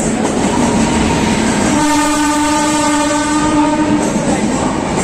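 The Mandovi Express pulls into a station, sounding a loud, sustained horn for about two seconds over the constant close rumble and clatter of the passing train.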